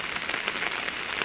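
Monsoon rain falling outside in Dehradun, Uttarakhand in July: a dense, steady hiss of drops pattering on surfaces, even and unbroken, with no voices.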